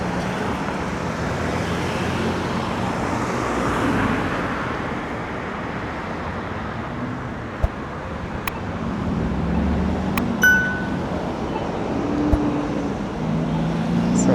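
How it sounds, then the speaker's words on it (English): Steady road traffic rolls along Eglinton Avenue in Toronto, a continuous roar of passing cars and heavier vehicles with wind noise, plus a few faint clicks and tones, and no talking. "I just wanted to show off some of the traffic fun along Eglinton."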